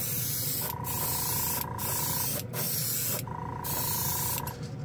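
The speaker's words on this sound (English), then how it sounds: "I guess we are kind of testing out the airbrush." A Gaahleri airbrush driven by a compressor sprays paint in a steady, close hiss, with two longer bursts broken by short pauses and a constant compressor hum underneath.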